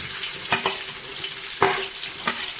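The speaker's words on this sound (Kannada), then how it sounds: "ನಾಲ್ಕು ಈರುಳ್ಳಿ ಕಟ್ ಮಾಡಿ ಇಟ್ಕೊಂಡಿದ್ದೀವಿ ಹಾಕ್ತಾ ಇದ್ದೀನಿ" Four chopped onions sizzle and fry in hot oil for biryani, a continuous close hiss broken by a few soft scraping stirs.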